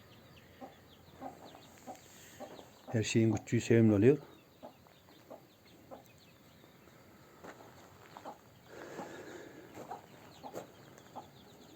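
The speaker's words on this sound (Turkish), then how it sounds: "Tavuklar da çıktı dışarı" Chickens cluck in a brief loud burst of calls near the start, then softer clucks and rustling continue with a few spoken words mixed in.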